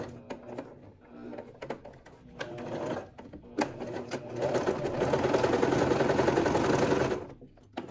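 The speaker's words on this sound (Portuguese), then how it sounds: "E vou costurar, unindo aqui as duas partes." A home sewing machine runs steadily as it stitches the two overlapping ends of a satin scrunchie together, starting with short bursts and then settling into a long, loud continuous whir before stopping.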